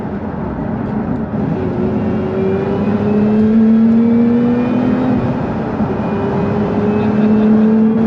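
Lotus Emira sports car accelerating hard in sports mode, a steady loud engine note rising continuously in pitch over about eight seconds, heard from inside the cabin with no talking.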